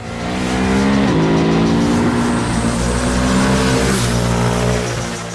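Ducati Hypermotard 950 RVE motorcycle engine under riding load, a loud, steady twin-cylinder drone with harmonic bands that rise and dip as the throttle changes, continuous and close with no talking.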